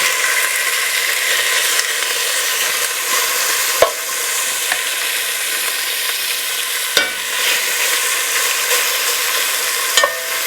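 Pork searing in avocado oil over medium heat, a loud continuous close sizzle with a few isolated sharp clicks from the pan, and no voices.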